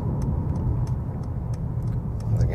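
A Mercedes-AMG E63 S facelift cruising on a motorway, heard as a loud, steady low engine and road rumble with faint ticking clicks scattered throughout and no talking.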